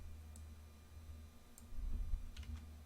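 A computer mouse clicks a few times during spreadsheet work, faint sharp ticks that are sparse and irregular over a low, quiet room hum.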